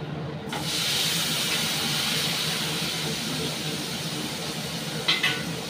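Finely sliced whole onion sizzling in hot oil, a steady broad hiss that rises once the onion goes in and holds evenly, with a brief clatter near the end.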